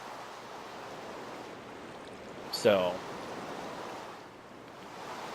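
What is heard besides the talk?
flowing water in Minecraft video game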